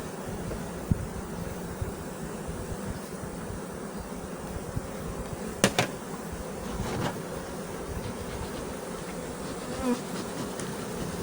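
Honey bees hum steadily at an open hive during a treatment against Nosema, with a dense, continuous buzz and a few sharper close passes from individual bees flying near.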